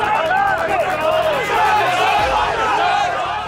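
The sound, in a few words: trading floor crowd shouting orders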